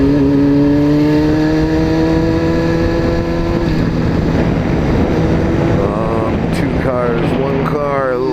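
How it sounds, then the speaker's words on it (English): Spray hissing off car tires on a wet, rainy road, heard from a bike, a steady broadband wash under a loud engine drone that rises and shifts as vehicles pass close by. "The tire spray is worse than the rain right now."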